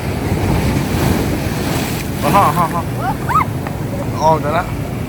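Sea waves surge under strong wind that buffets the microphone in a steady roar, while voices call out briefly over the noise.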